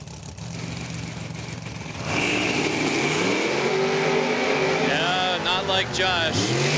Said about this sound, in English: Got Josh Speck pulling up here in the Vreelands lane in his 2017 Diamond Chassis Dragster, dialed 447.